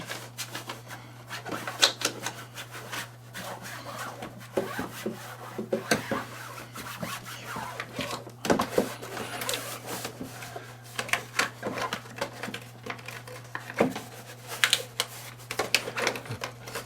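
Plastic litter box liner being rubbed and pressed into the corners and back of a box, giving a steady run of close, soft scraping and rustling rubs with a constant low hum underneath.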